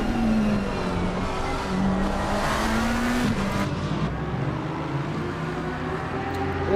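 A Lamborghini GT3 race car in a racing video game at Bathurst slides with a sustained engine drone and tire squeal, loud and continuous with shifting engine pitch.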